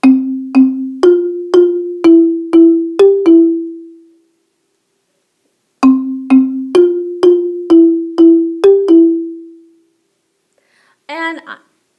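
Low instrument playing a bass line, two identical phrases of seven plucked-like deep notes stepping slightly upward and decaying, separated by silence, followed by a brief quiet voice at the end.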